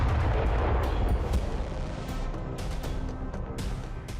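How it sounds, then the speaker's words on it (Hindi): Storm Shadow missile strikes and explosions hit Russian military sites, heard as heavy, rolling booms and rumbling blasts with dense crackling, loud and continuous throughout. "यूक्रेनी फोर्स ने रूस में स्टॉर्म शैडो मिसाइलों से हमला किया।"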